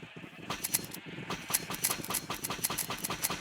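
Sheep bleating in the Minecraft modpack FTB Interactions, a rapid series of repeated short bleats over a low engine-like hum, fairly loud and close, with no talking.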